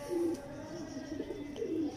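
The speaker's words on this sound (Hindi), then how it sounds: "ये दोस्तों मियाँ नज़ीर साहब वाला कोने वाला टैडी कबूतर है।" A corner teddy pigeon coos softly in low, rolling murmurs, quiet and close, with faint background noise.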